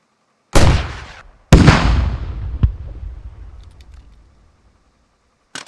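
An anti-tank rocket launcher fires in the video game Squad. Two booming launches come about a second apart, each trailing off in a long rumbling decay, followed by a sharp click and a faint knock at the end.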